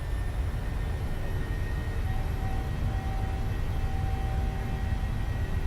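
Boeing 737-700 jet engines in Microsoft Flight Simulator roar loudly and steadily as they spool up, a dense continuous rush with faint whining tones layered on top.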